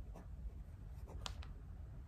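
An Esterbrook Camden fountain pen with a steel medium nib and Atramentis ink scratches across paper in a few faint, close strokes, with no talking.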